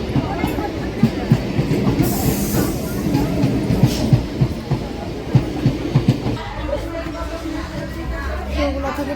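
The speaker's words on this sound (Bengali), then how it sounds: "ট্রেন ছাড়লো আটটা এক বাজে" A local commuter train pulls out of a station with a steady rumble and rhythmic clickety-clack of the wheels over rail joints, heard from on board, with people talking faintly in the background.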